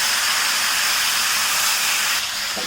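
Loud, steady hiss of 1.5 kg of washed, drained chicken hitting a hot iron pan, a continuous bright sizzle that eases slightly near the end.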